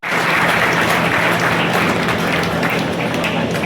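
Steady, dense applause from an audience at a farmers' award ceremony at Saguna Baug in Neral, Karjat, Raigad, sustained and loud throughout with no break.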